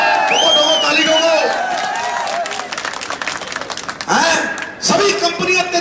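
Rally crowd at a politician's speech bursts into loud clapping and cheering, swelling in waves over an amplified voice that talks through it.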